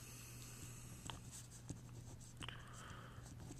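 Pen or pencil scratches steadily across paper while a math problem is worked out, a soft continuous scribbling with a few sharper strokes, heard alone with no talking.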